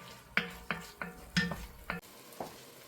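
Onions and garlic cooking in a pot for three-onion chili, gentle sizzling under a spoon stirring and scraping, with five or six clear clinks against the pot at a steady pace.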